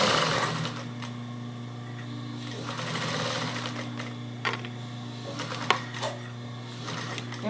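A sewing machine stitches bias binding onto a zipper cosmetic bag, running with a steady mechanical hum and a few brief clicks or thumps near the end, close and fairly loud with no talk.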